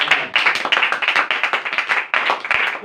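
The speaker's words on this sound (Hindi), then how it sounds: "जोरदार ताली" An audience at a religious talk claps hard and rhythmically, close and loud, in quick bursts of hand-claps that stop briefly and start again.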